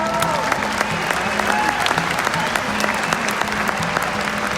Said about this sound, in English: I wish you'd give him a round of applause.